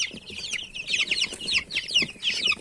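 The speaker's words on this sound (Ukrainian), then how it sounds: "Ось такі наші ціпульки з інкубаторів." Busy high-pitched cheeping from many incubator-hatched chicks under three weeks old, continuous and close, with overlapping peeps throughout.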